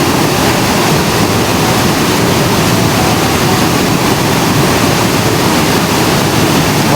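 A fast-flowing river current rushes loud and close, a dense continuous hiss and roar with no pauses, heard on its own with no voices.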